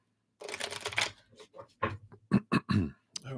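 A deck of tarot cards is shuffled by hand close to the microphone: an initial riffle followed by a series of separate sharp slaps and flicks, fairly quiet in a silent room.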